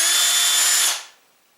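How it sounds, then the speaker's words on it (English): A power drill spins its bit into a piece of wood, a loud steady whine that stops abruptly and winds down into quiet. "When you press the trigger, it spins the drill bit,"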